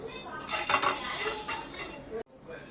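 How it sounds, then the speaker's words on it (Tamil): Dry red chillies, cinnamon, cloves, black pepper, cumin and fennel dry-roasting in a pan for kadai masala chicken, with loud metallic scraping and clinking of a spoon against the pan, then a sudden cut to quieter stirring. "2 மிளகா வத்தல், பட்டை, கிராம்பு, மிளகு, சீரகம், சோம்பு இதை வறுத்து எடுத்துக்கிடுவோம்"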